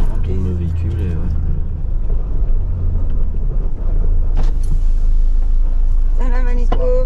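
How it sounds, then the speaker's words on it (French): A vehicle turns on sand in the Sahara desert, its engine rumbling low and steady throughout, while people talk over it. "On tourne le véhicule et ouais."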